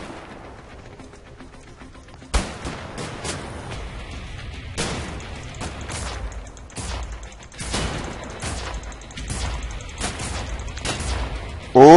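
Gunfire in Wolfenstein: The New Order, repeated bursts of shots and impacts cutting through a dense game soundscape over about twelve seconds, loud and irregular, with no talk.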